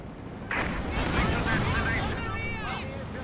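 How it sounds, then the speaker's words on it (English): Panzerwerfer rocket launcher firing in Company of Heroes 2, a sustained loud rushing barrage with whistling, sweeping rocket shrieks layered over rumbling battle noise for several seconds. "Panzerwerfer rockets on their way"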